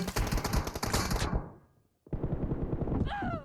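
Automatic gunfire bursts in PUBG Mobile, loud and close, rattling rapidly for over a second, fading out, then resuming after a brief silence amid other game sounds.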